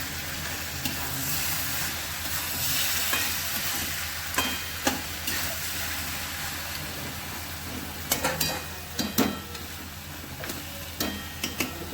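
Fish heads stirred in a sizzling frying pan, a steady hiss of frying with scraping stirs and a few sharp utensil clicks against the pan, close and continuous with no talk.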